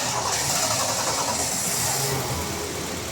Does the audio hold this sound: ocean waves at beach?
no